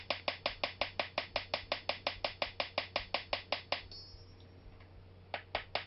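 Ball peen hammer shaping a hand-forged metal coffee scoop: a steady run of about twenty sharp, evenly spaced metallic strikes, close and crisp, then a short pause before a few more blows.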